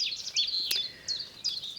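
Bright, high bird chirps and short trilling calls, fairly close, repeating over a quiet morning background in a permaculture food forest; no buzzing stands out.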